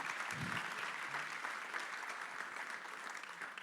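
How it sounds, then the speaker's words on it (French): A conference audience at a hydroelectricity plenary gives steady, fairly quiet applause, an even wash of clapping that continues throughout without a clear start or finish. "On l'applaudit, oui."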